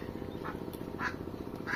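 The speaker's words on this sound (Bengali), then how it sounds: "অনেক হাঁসের বাচ্চা। কাদের রে?" A flock of ducklings in a remote Sundarbans village gives faint, high peeping quacks, three or four brief calls spaced apart over a low, steady background hum.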